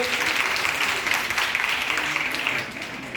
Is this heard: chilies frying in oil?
no